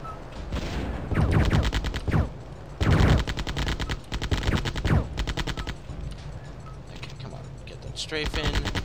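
Repeated bursts of rapid machine-gun strafing fire in the video game Terminator: Future Shock, loud and close, arriving in several volleys with short gaps between them over a steady game background.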